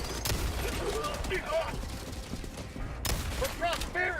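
An automated turret fires rapid bursts in the co-op shooter Helldivers 2, with the gunfire rattling through most of the moment and people talking over it.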